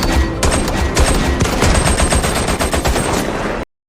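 A rifle being put through a water and sand test fires rapid automatic bursts, loud and close, with sharp cracks in quick succession before cutting off abruptly.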